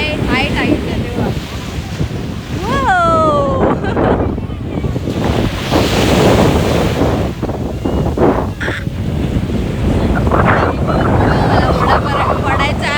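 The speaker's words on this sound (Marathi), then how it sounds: "आज खूप जास्त लाट आहे, म्हणजे हाय टाईट आहे तेव्हा." At high tide, ocean waves break on a beach at Achra in a loud, continuous surf wash with gusts of wind on the microphone, while people talk nearby and a bird calls briefly.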